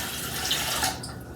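Warm water pours steadily from a cup into a mixing bowl while making Chicago deep dish pizza dough, a continuous close splashing hiss that thins out toward the end.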